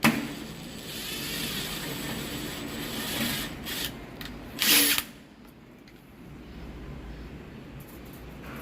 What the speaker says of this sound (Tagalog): metal screw lang may pambuta sa kanya guys ha